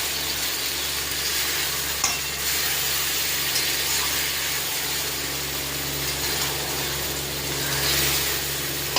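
Marinated mutton with ginger, cumin, pepper, salt, turmeric and yogurt frying in a pan with spices, giving a steady close sizzle and faint stirring that runs evenly throughout without talk.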